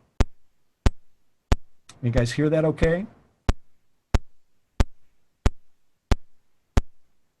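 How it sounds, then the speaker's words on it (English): A polarity thumper test signal fires sharp, full-range clicky thumps at a steady rhythm, about one every two-thirds of a second, with someone briefly speaking between pulses. "It's basically a polarity thumper, but it's a good full range thump."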